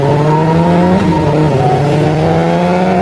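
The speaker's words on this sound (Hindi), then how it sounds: "बुल्ली बाबा के साथ बाइक पर बैठ जाता है और फिर बाबा बाइक भगाने लगते हैं।" A cartoon motorbike engine drones steadily, revving loud and close as the bike speeds off, with no voices over it.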